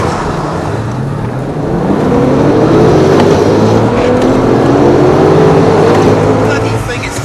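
A Porsche GT2 racing a Corvette Z06 accelerates hard, a loud, sustained engine roar with rising pitch sweeps building over several seconds, with a voice briefly heard over it.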